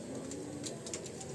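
Pet pigeons coo softly in a low, throaty murmur against a faint, steady background. The sound is brief and quiet, with no talking.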